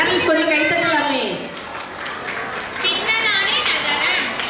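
An audience at a school annual day in Barathi Nagar claps in a steady, dense wash that runs the whole length, with children's voices and chatter mixed in over it.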